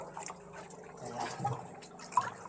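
Faint dripping and trickling water echoes softly inside a narrow cave tunnel near a cemetery, with occasional brighter drops standing out over a low, hollow background.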